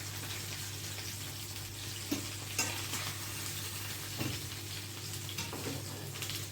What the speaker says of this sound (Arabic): تحمير توم زي اي تحمير